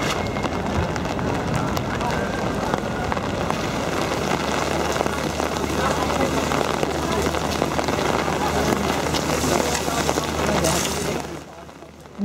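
Steady rain falls on surfaces on a Sunday in Hamburg, a dense continuous patter that stays loud and even before cutting off near the end, with speech heard over it.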